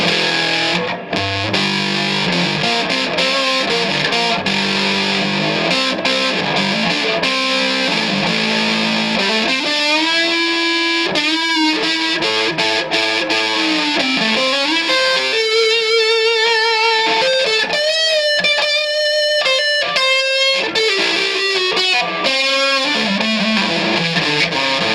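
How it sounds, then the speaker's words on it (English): Electric guitar on its neck pickup through heavy distortion turned all the way up, played alone as thick sustained chords and then a run of rising and falling bent lead notes, loud and saturated. "if you dial in distortion,"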